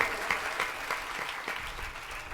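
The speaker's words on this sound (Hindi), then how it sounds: "एक बार और ताली बजाओ, मेरा मन नहीं भरा।" Steady, dense clapping from an audience at a devotional discourse honoring the goddess Maiya, a fairly loud, continuous wash of many hands with no voices on top.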